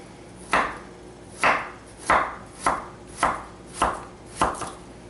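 A knife chopping red onion on a cutting board, seven crisp close thuds at a steady, unhurried pace with no talking.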